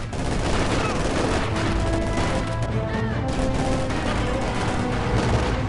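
Dense, continuous gunfire and explosions from a Company of Heroes 2 Soviet campaign battle, with rattling machine guns and bursts of artillery, loud and unbroken throughout, with shouting voices under the din.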